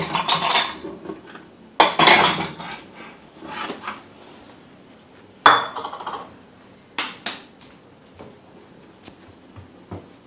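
A three-year-old child rummages in a kitchen cupboard among bowls and dishes, making close, irregular clinks, clatters and knocks of crockery and utensils with quiet gaps between them.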